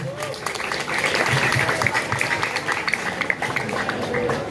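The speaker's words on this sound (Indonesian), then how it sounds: "Beri tepuk tangan untuk grup A." An audience at a school quiz final for a Maulid Nabi celebration claps for group A, a dense, steady burst of applause lasting several seconds, loud and close, with a little voice mixed in.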